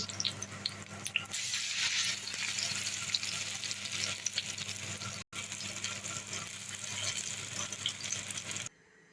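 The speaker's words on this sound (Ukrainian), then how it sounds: "Так, підсмажили з одної сторони, перевертаємо на іншу." Potato pancakes with mushrooms fry in a pan with a constant crackling sizzle, steady and close throughout, with a brief break and no voices.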